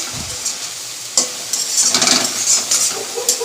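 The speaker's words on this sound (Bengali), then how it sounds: "হলুদটা দিয়ে কিছুক্ষণ নাড়াচাড়া করে নিই" Food frying in a pan with turmeric being stirred in, a close, fairly loud sizzle with repeated scraping and rustling stirs that grow busier toward the end.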